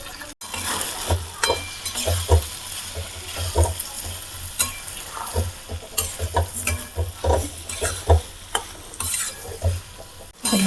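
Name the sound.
soaked potatoes frying and being stirred in pan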